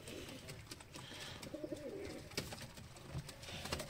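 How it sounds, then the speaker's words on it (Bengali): Pigeons in a loft give soft, low cooing calls amid a steady, fairly noisy background, the coos faint and intermittent with a few scattered clicks and rustles nearby. "দেখো পায়রা কত সুন্দর লাগছে"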